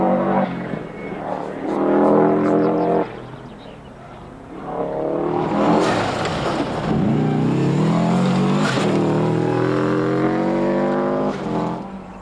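Subaru Impreza rally car driven hard on a 1997 British rally stage, engine revving loudly through repeated gear changes and rising acceleration, close by and dominating throughout.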